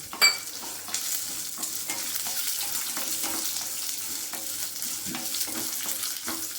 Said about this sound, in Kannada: ಚೆನ್ನಾಗಿ ಹುರ್ಕೊಳ್ಳೋಣ. ಮತ್ತು 2 ಬ್ಯಾಡಗಿ ಮೆಣಸಿನ್ಕಾಯಿ ಮತ್ತು 1-2 ಎಸಳು ಕರಿಬೇವು.